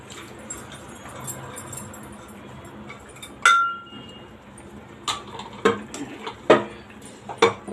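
A metal pressure cooker and pots clink and clatter in a series of sharp knocks and rattles under running water, close and intermittent.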